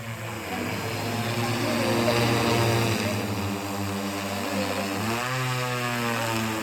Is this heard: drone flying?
yes